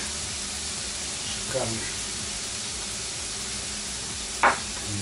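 Minced meat with pepper and dried garlic frying on a grill gives a steady, soft sizzling hiss throughout, while a voice briefly speaks over it.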